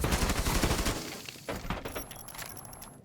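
Rapid gunfire in the video game Rainbow Six Siege, a dense burst of loud shots for the first second, followed by scattered impacts, debris clatter and a thin high tone.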